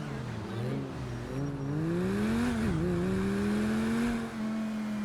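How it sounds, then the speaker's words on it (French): A Lamborghini in a modded GTA video game revs up through its gears with a custom engine sound, a steady rising growl, a brief dip at a shift, then a sustained high drone, close and clear without talk. "Et même le bruit des voitures, regardez,"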